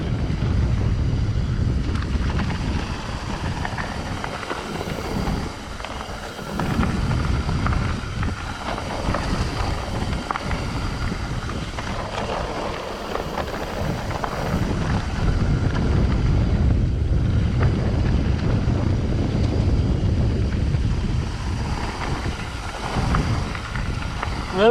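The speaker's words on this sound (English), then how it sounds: "it feels good to have some fresh air blowing over my face" Strong wind buffeting the microphone while riding downhill on a bike, a loud, continuous low rumble that swells and dips without a break, close up, with no talk.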